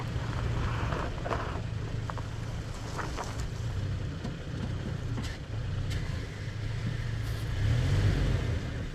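An off-road vehicle's engine drones steadily as it climbs a trail in the Cohutta and Big Frog wilderness, continuous and fairly close, mixed with rough wind and terrain noise.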